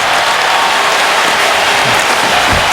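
A hockey crowd roars inside the Wells Fargo Center during a Philadelphia Flyers game against the Detroit Red Wings, a dense, steady wall of cheering and applause filling the arena without a break.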